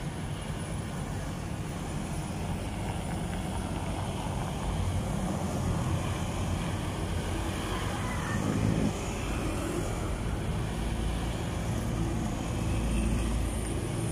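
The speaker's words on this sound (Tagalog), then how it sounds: "marami na pong mga sasakyan po dito na mamibilis mga boss, bumabangking po" Fast vehicles stream past on a road through Barangay Inarawan, Antipolo City, a steady loud wash of engine and tyre noise that swells as the heavier vehicles go by, with no one speaking.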